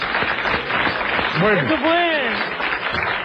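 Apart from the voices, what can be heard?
audience applause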